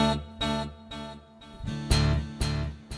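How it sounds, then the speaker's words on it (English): Acoustic guitar notes are plucked at a moderate pace, each one repeated by a quarter-note delay echo on the beat, leaving a trail of fading repeats. "everything coming out of the speaker over here is going to have an echo, a quarter note delay"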